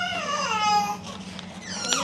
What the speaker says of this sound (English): you will hear my little one in the background.